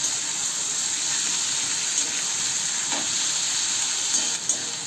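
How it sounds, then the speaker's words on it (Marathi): Onion and tomatoes sauté fast over a high gas flame, a steady close sizzle with occasional stirring scrapes and clinks against the pan, and no one speaking. "त्यामध्ये टोमॅटो आणि सगळं फास्ट गॅसवर परतू दे"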